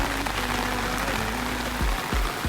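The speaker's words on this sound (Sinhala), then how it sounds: "හොඳටම වහින්න පටන් ගන්නවා" Heavy rain pours down in a dense, even hiss that fills the whole stretch, with a few low rumbling thumps near the end and no voices.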